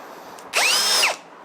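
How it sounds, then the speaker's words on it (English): Power drill boring a pre-drill hole for a batten screw into very hard wood while adding a handrail to hardwood outdoor steps: one close, loud whirring burst of about half a second that rises and falls in pitch over quiet background. "we had to pre-drill for the batten screw first into that really hard wood"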